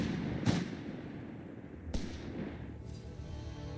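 Sharp, cracking shots of autocannon fire from a Humber armoured car in the video game Company of Heroes 3: two distinct bangs a second and a half apart, then a softer third shot over a steady battlefield rumble.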